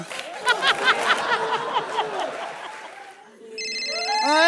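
A phone ringtone chimes in near the end, following chuckling and murmured voices close by.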